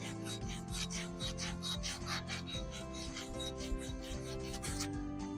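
Continuous abrasive rasping of a Würth abrasive roll sanding against a workpiece spinning on a lathe, with steady rhythmic scraping strokes and a low machine hum underneath.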